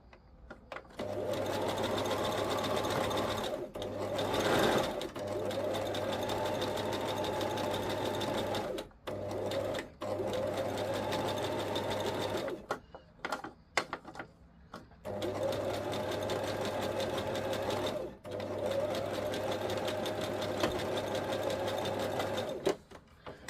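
A sewing machine stitching fabric runs in long, steady, close whirring bursts with brief pauses between them, its motor hum loud and continuous during each run.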